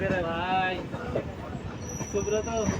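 A train rumbles through Jiribam railway station in Manipur, India, with a thin high whine overhead, while people talk nearby throughout.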